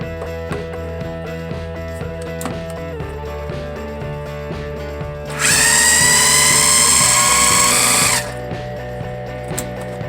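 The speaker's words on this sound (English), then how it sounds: "Dump it all in the food processor and blend it until it's relatively smooth." A food processor blends cooked beetroot for brownies in a loud, buzzing burst of about three seconds, rising over steady background music.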